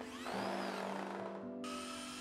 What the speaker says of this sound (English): just remove one plank, then drill holes for the screw